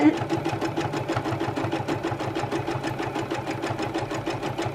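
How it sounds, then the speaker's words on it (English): A sewing machine joins hexagon quilt blocks, its needle chattering in a fast, steady mechanical rhythm close by, running continuously under light background noise. "you're sewing your block together and your quilt's done"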